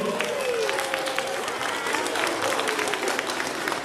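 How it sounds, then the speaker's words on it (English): Audience applause and cheering at a K-5 school assembly, a steady wash of clapping from a large crowd of children and families with some shouts and voices mixed in. "Let's give a big round of applause and shout out to all our families for joining us today."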